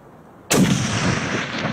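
A single loud rifle shot during an ibex hunt in Central Asia, an abrupt blast after near silence with a long rolling echo that fills the rest of the moment outdoors.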